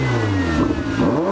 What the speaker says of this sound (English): You can hear this very full-bodied strive from the titanium exhaust.